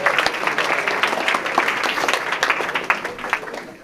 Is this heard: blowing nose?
no